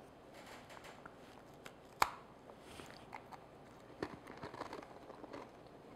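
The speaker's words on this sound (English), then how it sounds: "I don't know whether you heard that. Really, really crunchy. I just love that really crunchy cookie." Someone bites into a homemade crunchy chocolate wafer cookie close up. One sharp crack is followed by a few quieter crunching chews in an otherwise hushed room.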